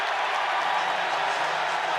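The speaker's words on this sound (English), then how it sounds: "You hear the chants of Luka." An arena crowd at a college basketball game between North Carolina and Central Arkansas roars steadily for Luka Bogavac as he checks in, a dense, continuous wash of cheering and chanting with no break.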